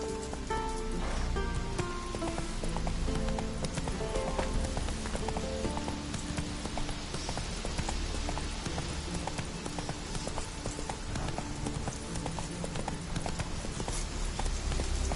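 Roach the horse gallops in Witcher 3, rapid rhythmic hoofbeats that run steadily and close throughout, backed by rain-like patter and music.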